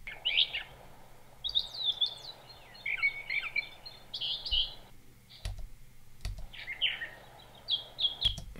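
A Brown Thrasher sings a series of short, varied phrases of chirps and whistles at moderate distance over a low background hum, with a few sharp clicks between phrases.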